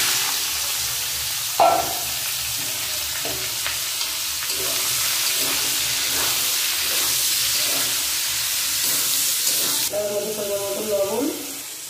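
Bottle gourd and cucumber pieces tipped into hot oil seasoned with bay leaf and panch phoron, giving a loud, steady sizzle and hiss with scraping stir strokes throughout, the sputter rising sharply near the end.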